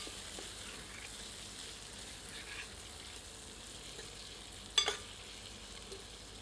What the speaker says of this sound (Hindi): और इसे 3 से 4 मिनट मध्यम आंच पर भूनते हैं।